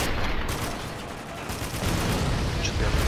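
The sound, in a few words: gunfire in the video game Spec Ops: The Line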